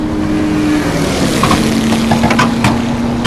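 A car engine drones steadily at a Texas track driving experience, loud and close from inside the cabin, with a sustained engine tone that rises slightly as throttle is applied, plus rattling interior noise.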